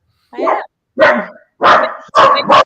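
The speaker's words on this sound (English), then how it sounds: "There's the dogs." Dogs bark close by, loud and alone, giving four separate barks that grow stronger, the last one doubled.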